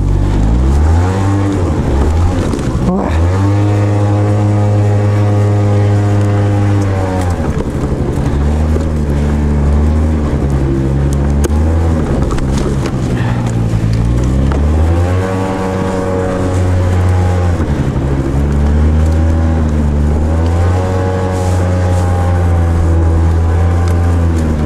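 Honda Giorno scooter riding along a road while its clutch slips, a loud, continuous engine drone whose pitch rises and falls repeatedly, with wind buffeting the microphone throughout.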